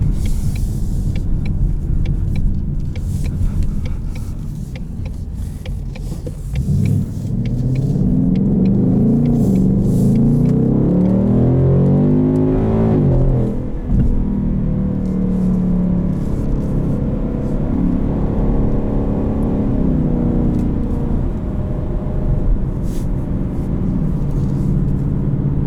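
A 2020 Ford Mustang GT with a 5-liter V8 and automatic transmission, heard from inside while driving: a loud, continuous engine rumble that climbs through rising revs and shifts, dips, then builds again, with no talking.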